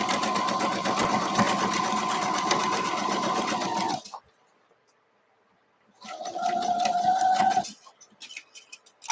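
A sewing machine stitches a quilt block seam in a loud, fast, even whir up close, stops for about two seconds of near silence, then runs another short burst before a few light clicks.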